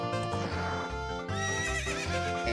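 Epona, the horse in the video game The Legend of Zelda: Ocarina of Time, gives two loud, close whinnies back to back, each a shrill, wavering neigh with no talking.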